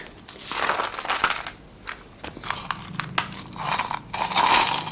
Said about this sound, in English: the coins will sure fall off